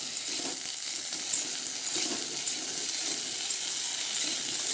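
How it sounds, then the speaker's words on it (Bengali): Taro pieces frying in the oil left over from frying small fish, giving a steady, close, dense sizzle with a faint crackle throughout and no talking. "এবার গাটিকচুগুলোকে একটু আমি ভেজে নিচ্ছি"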